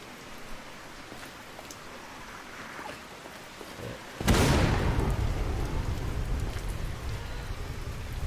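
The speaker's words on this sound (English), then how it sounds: "it's just residual noise from my exploding arrow" Exploding arrow blast in a video game: a sudden broadband burst at around four seconds, followed by a sustained rumbling, rain-like hiss that lingers loudly to the end after a quieter ambient stretch.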